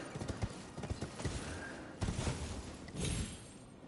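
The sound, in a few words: horse hooves clip-clopping in the video game Elden Ring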